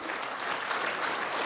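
An audience at a leadership program closing ceremony applauds its faculty members with brief, even, steady clapping, heard at a moderate distance and fairly soft.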